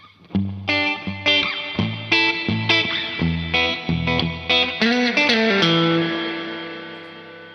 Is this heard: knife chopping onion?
no